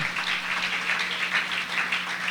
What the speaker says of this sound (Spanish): Si siente aplaudirle a Él, hágalo